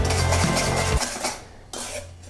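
Melted butter is whisked into hollandaise sauce made with egg yolk and lemon juice, a brief close scraping and clinking of a whisk against a bowl in quick strokes, then a short pause and another scrape.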